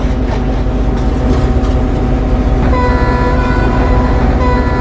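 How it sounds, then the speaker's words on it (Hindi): Simulated Indian Railways train, a Dibrugarh–New Delhi Rajdhani Express on an NFR route in a simulator game, loud steady rumble and rattle of running wagons with a sustained horn joining partway through. "सो देख सकते हैं हमारी ट्रेन यहाँ से निकल चुकी है"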